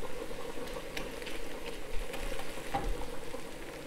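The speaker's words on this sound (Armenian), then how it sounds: "ավելացնում ենք տոմատի մածուկը, 1 ճաշի գդալ, և բովում ենք սոխի հետ։" Tomato paste frying with onion in a pan for a bean soup, giving a steady, close sizzle and bubbling with no talk over it.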